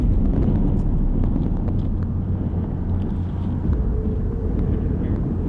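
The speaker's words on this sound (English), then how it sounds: "I can hear the plane." A plane passes at night as a broad, steady low roar mixed with outdoor wind noise, continuous and moderately loud, heard from the ground.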